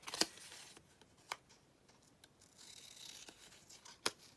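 Scissors cut pieces of patterned paper down for an art journal page, giving faint, sparse snips and rustles, close and quiet, with a few sharper clicks.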